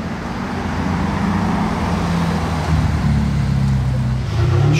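Ferrari 812 GTS running with its exhaust valves open, a loud, steady engine drone heard nearby that swells and rises in pitch toward the end. Low traffic rumble sits underneath, and no one speaks.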